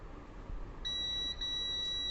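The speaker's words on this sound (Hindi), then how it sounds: "जहाँ पे बीप कर रहा था" A multimeter's continuity tester sounds a steady, high-pitched electronic beep, starting about midway and holding with a brief dip, as probes check a circuit board for a short. The tone is loud over a low background hiss, with no talking.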